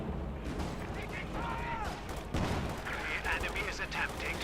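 Rapid gunfire, tank-shell impacts and explosions from a World War II strategy game, Company of Heroes 2, with armor and infantry fighting; continuous loud battle noise with rolling booms, whistling shells and overlapping shots throughout.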